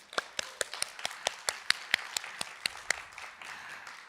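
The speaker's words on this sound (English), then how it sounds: "Let's clap for all of them." An audience in a small conference hall at a sustainability forum gives a round of applause: distinct, crisp claps land in a steady, sparse rhythm and fade into softer clapping at the end.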